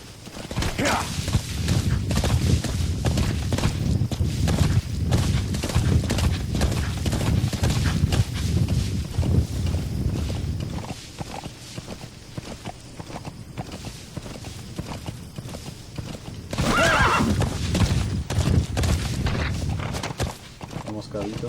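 Horse hooves clip-clop at a steady walking pace in Metal Gear Solid V, with a brief whinny-like burst near the end, all under ongoing game sounds and someone speaking Spanish.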